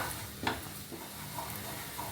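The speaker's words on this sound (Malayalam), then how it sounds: "ഇനി ഇത് നന്നായിട്ടൊന്ന് ഇളക്കുക" Chili powder spice mix stirred in a pan with the gas off, a steady low sizzle under a few soft scraping strokes of the spoon across the pan, close by.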